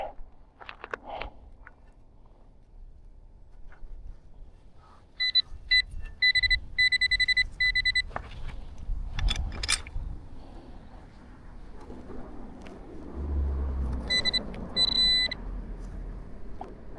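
Metal detector beeping over a buried metallic target that turns out to be a pull tab, with short bursts of bright, pulsing tones around six and fourteen seconds over soft outdoor rustling and digging noise.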